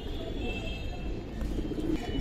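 A male silver military pigeon of the Pankhi type coos softly in low, rolling murmurs, faint against steady background noise in a pigeon keeper's collection.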